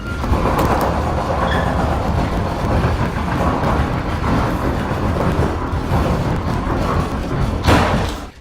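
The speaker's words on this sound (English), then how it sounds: "It sounds like a quake is occurring. The house shakes. Doors are rattling thunderously." A house shaking with doors rattling loudly, a continuous heavy rumbling clatter of banging and knocking that stays loud throughout, with a sharper slam near the end.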